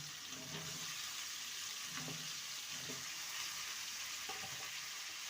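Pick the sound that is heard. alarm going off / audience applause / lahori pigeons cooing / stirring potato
stirring potato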